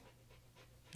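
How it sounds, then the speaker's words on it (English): A tired dog panting on the floor after a walk, a few faint, quick breaths close by, followed by the abrupt start of a voice. "Also sorry for my dog panting here on the floor."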